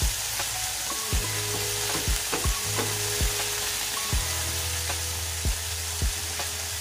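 Pork frying in oil with vegetables, a constant close sizzle punctuated by regular scraping stirs of a utensil against the pan, without talk.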